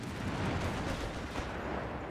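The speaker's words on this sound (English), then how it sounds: "The Krauts have got mortars and artillery on the hill." Mortar and artillery fire roll across a battlefield in the video game Company of Heroes 3, a dense rumbling barrage with no distinct gaps that stays loud throughout.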